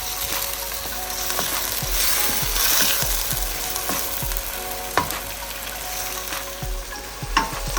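Onions and then tomatoes sautéing in a pan for chicken stew: a steady sizzle and frying hiss with repeated scraping and clicking stir strokes of a utensil against the pan, close and even throughout.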